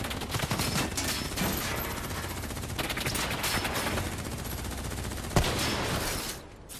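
Sustained automatic gunfire in Call of Duty Black Ops 3, a dense, continuous fusillade of rapid shots with one sharper crack near the end before the firing tapers off.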